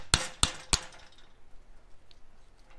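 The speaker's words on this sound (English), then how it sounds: "Now we're just gonna finish pressing it out with the chisel." Three sharp metallic hammer strikes on a chisel, driving a suspension bushing out of a BMW E46, land in quick succession near the start, then fade into quiet shop ambience.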